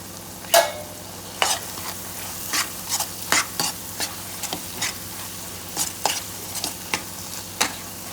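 Bitter gourd coated in masala and chili powder is stirred in a hot pan: irregular scraping strokes of a spoon over a soft background sizzle, fairly close, with no talking.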